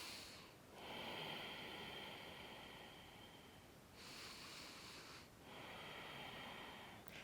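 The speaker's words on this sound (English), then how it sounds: "you're going to make that ha sound with your lips sealed." Ujjayi breathing through the nose with lips sealed, the air rasping in the back of the throat as a soft ocean-like hiss; three long breaths separated by short pauses, close and faint, no talking.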